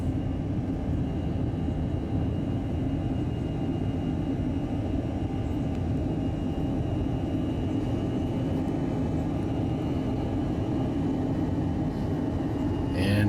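Inside a jet airliner climbing out of Reagan National Airport toward Atlanta, a steady, even roar of engine and airflow drones on without a break.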